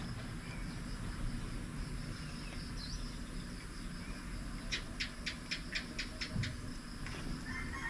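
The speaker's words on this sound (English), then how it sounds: "That's a lizard sound." A lizard in the Philippines calls out in a quick run of about eight sharp, evenly spaced chirping clicks, moderately near, over a steady outdoor background of insects and ambience.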